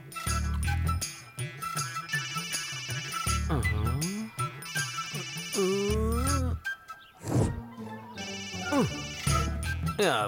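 A mobile phone rings again and again, with a loud, insistent, tuneful ringtone that repeats in bursts over short pauses.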